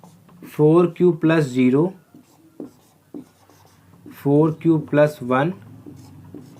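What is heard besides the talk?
writing on a board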